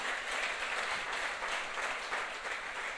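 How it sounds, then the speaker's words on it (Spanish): Congregation clapping together during a church sermon, a steady dense wash of applause that holds at an even level for the whole stretch with no voices standing out. "Dele el aplauso al Señor"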